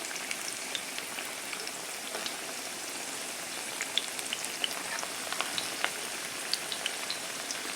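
Plantains frying in a pan of oil, a steady faint sizzle with scattered light pops and crackles, no voices.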